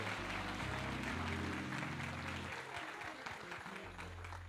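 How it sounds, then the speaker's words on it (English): A church congregation at a Sunday pastor's appreciation service claps together, a dense patter of hands over a low organ or keyboard drone that fades partway through before the chord returns. "Let's give them one more hand clap of praise."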